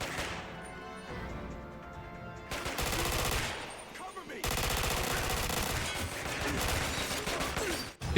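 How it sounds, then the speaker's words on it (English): A shootout in the video game 007: Quantum of Solace (Xbox 360) brings loud rapid automatic gunfire in long bursts, broken by a short lull and a crash. "This is actually probably the most interesting shootout so far."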